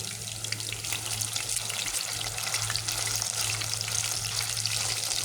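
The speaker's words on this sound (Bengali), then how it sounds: "কিমা মাংস দিয়ে, তারপরে এখানে ধনিয়া পাতা, রসুন কুচি, পেঁয়াজ কুচি সব কিছু উপকরণ দিয়ে তারপরে ভাজতেছি" Minced beef fritters, mixed with coriander leaves, chopped garlic and onion, fry in oil with a constant dense sizzle and crackle, close and steady, with no talking.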